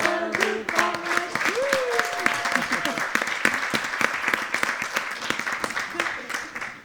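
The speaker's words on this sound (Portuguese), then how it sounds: "uma salva de palmas" Audience at a cultural talk event applauds loudly with sharp, distinct claps, while voices and a few melodic cries or whoops rise over the clapping before it tapers off.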